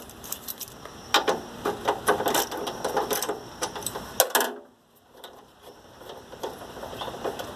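Ratchet with a 10 mm socket clicking rapidly while turning headlight bolts on a 2004 4x4 Astro Van, bursts of close, sharp metallic ticks that stop midway, then resume faintly.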